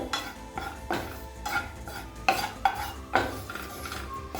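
Biryani masala spices dry roasting in a pan, stirred with a utensil that gives repeated scraping, clattering strokes in an uneven rhythm, close and moderately loud with no talking.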